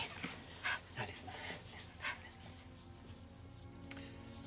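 A dog in a film pants in quick, uneven breaths and gives a few soft whimpers, faint and mixed with low background noise.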